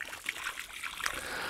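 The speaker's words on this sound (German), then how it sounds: "Jetzt gießen wir noch mit Wasser an, das ist auch wichtig." Water trickles and splashes onto the soil around a newly planted bare-root peach tree in spring, a steady close pour with small splatters and no talk.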